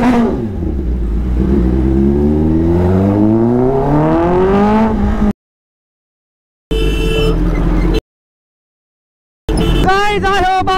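Revs from a Kawasaki ZX10R motorcycle on launch control climb and fall in loud, rising sweeps, broken by abrupt gaps, with no talk.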